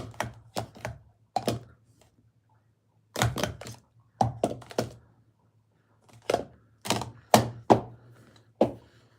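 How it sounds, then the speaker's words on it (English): Plastic cups are stacked and unstacked in a rapid-fire freestyle, sharp clacking bursts in quick clusters separated by short pauses, close and crisp over a low steady hum. "I'm gonna do one more freestyle, which is called the Rapid Fire."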